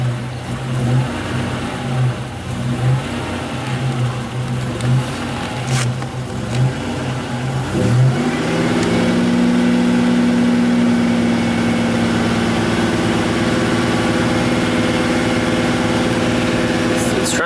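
A Buick Grand National engine idles with a pulsing low rumble, then revs up around the eighth second and holds a steady, louder raised drone until the end.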